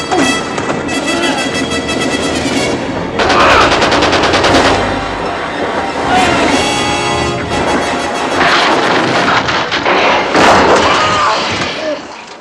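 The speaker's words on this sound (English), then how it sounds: "you really want to see how Eastwood and Burton will wriggle/shoot their way out of it" Dense gunfire from the 1968 WWII film Where Eagles Dare: loud, continuous bursts of machine-gun fire and heavy blasts, rapid and overlapping with no pause across the whole stretch.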